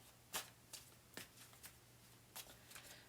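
Tarot cards being shuffled in quiet, scattered bursts, several soft riffles and taps spaced irregularly against a faint background hum.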